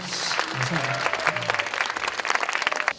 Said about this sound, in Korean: 친구들 박수 한번 쳐드리자.